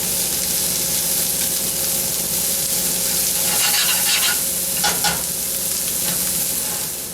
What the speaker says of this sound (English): Just a quick mix to coat our onions evenly.